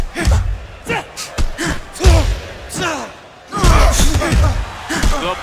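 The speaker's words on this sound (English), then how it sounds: "Ward comes in with a hard shot of his own" Heavy punches thud one after another in the Fight Night Round 3 boxing video game, landing in irregular bursts of solid slaps and thumps with crowd noise and commentary running over them.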